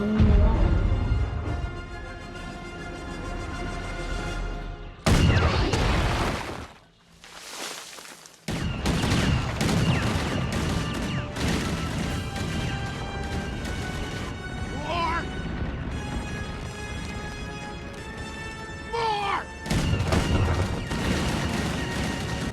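A Star Wars film battle scene fills with gunfire and explosions, loud layered blasts and crashes with a brief drop-out midway, under shouted dialogue and dramatic music.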